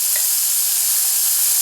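Beaten egg mixture sizzling loudly in a hot omelet pan with onions, a steady bright crackling hiss throughout this short moment, with no voices.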